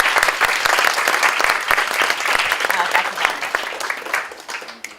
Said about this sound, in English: I think we all need to give them yet another hashtag global applause